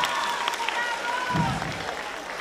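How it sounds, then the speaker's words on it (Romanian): Students at a school freshman ball applaud a girl, a moderate patter of clapping with voices mixed in, fading slightly toward the end. "Un rând de aplauze pentru Bianca,"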